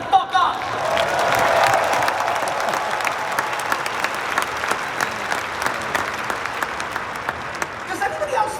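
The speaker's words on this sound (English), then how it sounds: "Clap it the fuck up." A conference keynote audience at VeeCon claps steadily, a dense wash of applause with a few scattered whoops, continuing across the whole stretch without a clear break.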